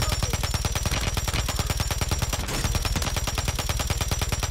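Gunfire in the video game Warzone comes as a dense, continuous stream of rapid automatic shots, loud and close, with a barely noticeable break partway through and no voices.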